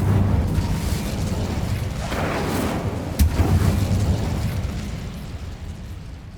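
An Incendio fire spell in Hogwarts Legacy erupts in a loud, close roaring burst of flame with crackling rumble, a sharp pop partway through, then fading.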